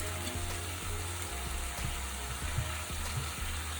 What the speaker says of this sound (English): stir that through and let it cook for a few minutes as well until it softens